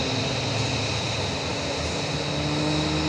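Aerobatic propeller airplane flown by Scott Francis at the Westmoreland County Airshow, a steady, loud engine drone with a constant tone throughout and no talk.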